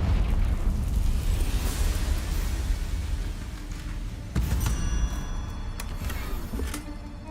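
Confringo blasting spell explosion in the Hogwarts Legacy video game, a long, heavy rumbling blast with a second sharp impact midway and debris-like crackles trailing off, loud and near with no talking.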